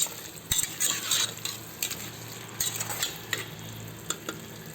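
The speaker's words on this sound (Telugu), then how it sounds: "మధ్య మధ్యలో కలుపుతూ ఉండాలండి." Tomato masala for chicken biryani being stirred in a pan: a spoon scrapes and clinks against the pan in irregular strokes over a steady sizzle of frying, close and moderately loud with no talking.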